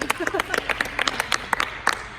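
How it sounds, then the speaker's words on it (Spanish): Scattered clapping from a small group at a basketball session with women's league players, irregular and fairly close, with no voices. "Luis, puedes aplaudir también."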